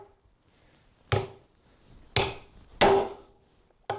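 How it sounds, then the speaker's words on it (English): A titanium hammer drives into wood in four sharp, loud strikes spaced about a second apart, each a crisp impact with a short ringing tail. "let's try the titanium hammer"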